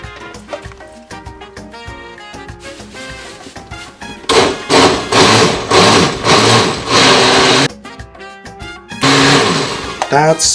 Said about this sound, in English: So now we have basically a blender full of peas.